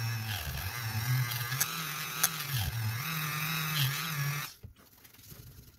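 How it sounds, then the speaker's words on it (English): Buffing wheel polishing a CZ Scorpion Evo 3 bolt part with polishing compound, a steady loud motor whine with a shifting tone as the part is pressed in, cutting off abruptly near the end. "Here we go with the buffing wheel and a little bit of polishing"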